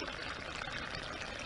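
Water pours steadily out of a drainage hole between terraced rice fields, a broad continuous splashing rush with no pauses, fairly close and unbroken by talk.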